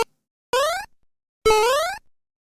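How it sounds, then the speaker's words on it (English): A cartoonish head-on-table sound effect in a courtroom deception game: two separate boing-like twangs, the second longer and louder, each rising in pitch, with silence around them. "this is the sound of his head hitting the table"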